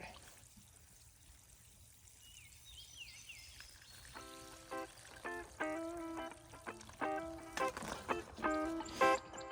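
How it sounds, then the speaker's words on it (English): Water pours and trickles onto Superbena plants in a garden, soft splashing and dribbling that grows more active after a quiet start, with a few clinks nearby. "Okay, so I'll water the shit out of these,"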